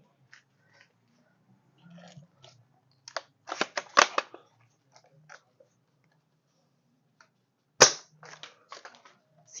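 An E&C L96 airsoft spring-powered bolt-action sniper rifle fired with its silencer unscrewed, giving short sharp cracks amid quieter mechanical clicks and handling noise, with one louder snap near the end.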